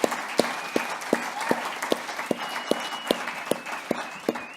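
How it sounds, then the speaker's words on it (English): Applause from an evening benefit audience after a singer's performance, a dense wash of clapping with a few sharper claps standing out in a steady rhythm. "Let's give her a round of applause"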